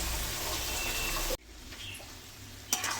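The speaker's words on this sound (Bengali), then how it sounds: "মিক্সিটা ধুয়ে একটু জল দিয়েছি" Water pours into a mixer grinder jar while it is rinsed, a steady close rushing splash lasting over a second before stopping abruptly, then a quiet room with a faint knock.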